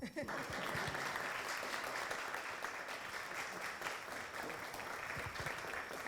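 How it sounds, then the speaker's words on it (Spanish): Applause at the close of a session of a gender-studies lecture series, an even, fairly quiet spread of many hands clapping throughout, steady from start to finish with no break. "si quieren ya aplaudirles"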